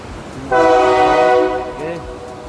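A loud, sustained train horn blasts close by for about a second, then fades into rumbling rail noise, on a train line near Machu Picchu, Peru.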